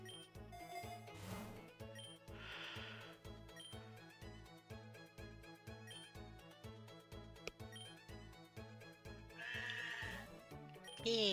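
A sheep Pokémon cries in the video game Pokerogue, giving a few short, buzzy bleats over looping background game music with a steady rhythmic beat.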